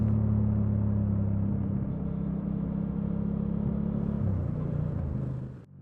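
A Honda Transalp engine drones loud and steady under riding, with a deep rumble holding constant before the pitch shifts and the sound cuts away at the end.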